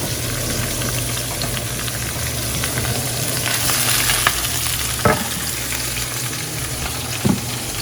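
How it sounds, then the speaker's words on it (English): Vegetables sauté in a hot pan of melted butter and olive oil, giving a steady close sizzle with a few brief knocks and scrapes as they are stirred. "You'll saute the vegetable in that nice hot oil there."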